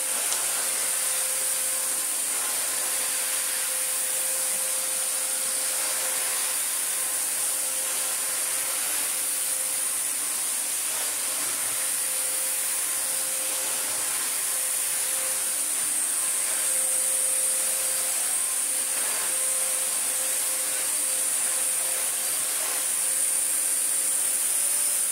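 A restored Miele Medicare Mini 1600 S168 stick vacuum runs on carpet with a steady, unbroken motor whine and airy hiss, close and constant with no talking.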